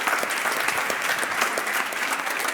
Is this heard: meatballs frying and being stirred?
no